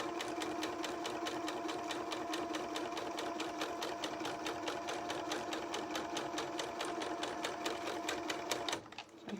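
A sewing machine stitches a fabric seam in one steady, fast-running mechanical drone of needle strokes, close and continuous, before stopping abruptly near the end.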